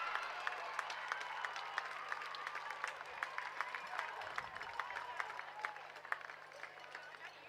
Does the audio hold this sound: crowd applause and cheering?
yes